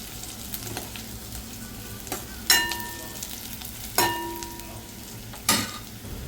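Pigeon pea ghugri frying in a pan, a soft steady sizzle with a few sharper scraping stirs of a spoon against the pan at intervals, heard close with no voices.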